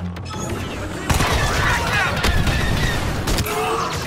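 Blaster fire in the game Star Wars Battlefront II crackles in rapid, overlapping volleys with sharp bursts and booming impacts, loud and close, amid battle noise and voices.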